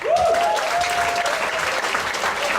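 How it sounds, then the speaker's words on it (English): A crowd at a PechaKucha Night event in a Ubud venue bursts into applause for a speaker, steady dense clapping at full strength, a whistle sliding through the first second. "Big applause for our 6 speakers of the night, Pepe Arcos."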